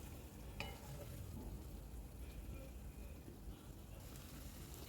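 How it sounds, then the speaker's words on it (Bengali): Dum aloo, a spiced potato curry, being stirred in a pan after salt goes in, giving a faint, steady scraping and soft sizzle with a few brief spoon knocks, quiet and continuous throughout. "নুন দেওয়ার পর আবার একটু নাড়িয়ে নেব।"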